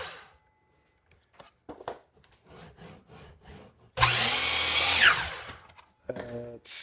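A Harbor Freight power saw bites into wood with a loud, harsh whining rasp lasting about two seconds, preceded and followed by quieter clicks and handling noises.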